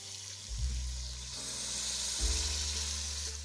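Water for egg curry gravy pours onto hot, oil-released fried masala in a pan, bursting into a loud steady sizzle that surges twice and stays close and continuous.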